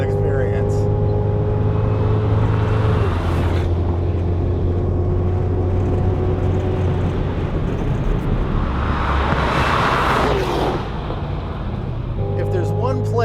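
A 2016 Cadillac CTS-V with 640 horsepower accelerates hard uphill at Road America, a loud sustained engine roar with a steady rising drone and wind rush throughout.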